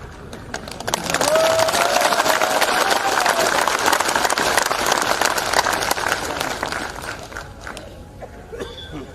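Sustained applause from a large crowd at an Army Day annual event in Sujanpur, dense steady clapping that swells quickly and then slowly thins out toward the end.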